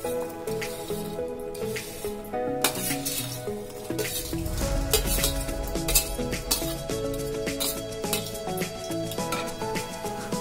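Prawn pieces hit hot oil for prawn pickle and sizzle loudly, the frying swelling into a dense crackle about midway. Background music plays throughout, and there is no talk.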